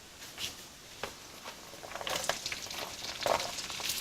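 Onions hit hot oil and prawn stock in a pan for Mee Siam, a soft sizzle that grows louder after a few quiet taps and scrapes, close and faint overall.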